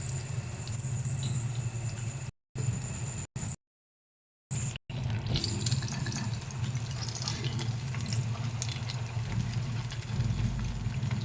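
Batter-dipped lotte (Bombay duck) fish pieces lowered one by one into hot oil, giving a continuous soft hissing sizzle broken by a few brief gaps, then steady bubbling.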